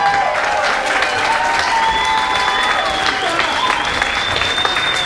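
A graduation audience applauds Room B with loud, continuous clapping, and a few voices call out over it.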